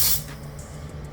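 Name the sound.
paint spray gun spraying candy paint at 25 psi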